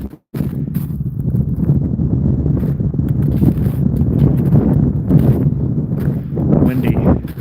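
Wind blows at a wintry beach, a steady, loud, low roar that buffets the microphone almost continuously, with a brief gap at the start.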